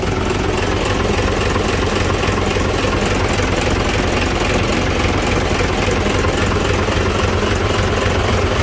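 A 360-horsepower Isuzu 6WA1 diesel engine runs with a steady, loud, low rumbling drone close by, holding an even idle-like tone throughout with no voices.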